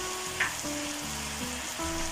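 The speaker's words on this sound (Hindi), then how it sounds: "ये देखें गोश्त हमारा अच्छी तरह से फ्राई हो चुका है।" Beef sizzles while frying in a pot for degi korma, a steady close hiss with faint low-pitched tonal hum underneath and one brief higher click, and no speech.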